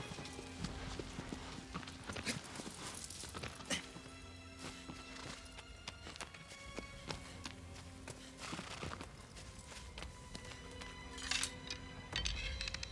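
Hooves clip-clop steadily and quickly, a horse galloping in a video game, with occasional whinnies and game sound effects layered over the rhythm.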